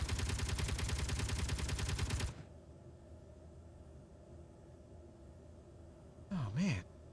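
Turrets in a video game fire at close range in a loud, rapid rattling volley that cuts off after about two seconds, leaving a quiet hum and a brief warbling tone.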